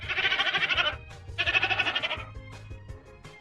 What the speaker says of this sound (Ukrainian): Козел тато, коза мама. А тут, вірно, це козеня, їх малесеньке дитя.